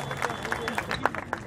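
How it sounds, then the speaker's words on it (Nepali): An audience at a Gai Jatra comedy song event in Baneshwor claps for a singer, a short burst of scattered close hand claps with murmuring crowd noise underneath. "सिधा एउटा कलाकारको सम्मानमा जोरदार ताली शान्तिम कोरालाको लागि"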